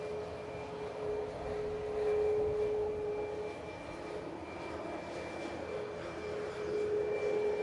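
A SunExpress Boeing 737 MAX 8 at Manchester Airport, departing for Antalya, produces a sustained aircraft engine drone with a steady whine, swelling and easing in moderate loudness, with no speech.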